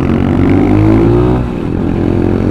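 Loud, close Kawasaki KLX trail motorcycle with an upright single-cylinder petrol engine, revving hard and holding high rpm, then easing slightly as the note drops before steadying again.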